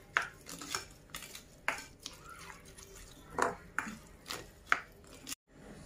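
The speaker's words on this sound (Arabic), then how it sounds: "وغادي نخلطهم مزيان" A spoon scraping and clinking against a bowl while ingredients are mixed with spices and half a cup of oil, with a series of sharp, close taps and scrapes at an irregular rhythm.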